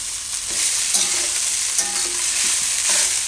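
Sweet poha with dry fruit and coconut being stirred in a pan over low flame, a gentle sizzle with repeated soft scraping strokes of a spoon.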